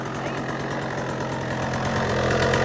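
Small 85–112cc motorbike engine fitted with a Lectron Billetron Mini 29mm carburetor idles steadily during warm-up, a close, continuous mid-pitched drone with a slight knock that swells a little toward the end.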